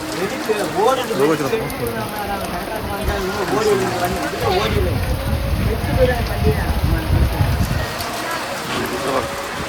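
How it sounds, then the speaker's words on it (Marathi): Steady heavy rain hisses and patters throughout, with people talking over it and a nearby voice close to the microphone. "खूप पाऊस वगैरे इकडे"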